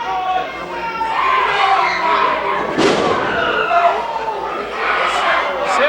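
A wrestler in a McKeesport indie wrestling match misses a frog splash and crashes onto the mat with a single heavy thud amid steady crowd noise and commentary.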